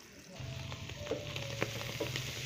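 Garlic sizzles in hot butter in a pan, a steady close frying hiss with occasional small pops and light utensil clicks throughout.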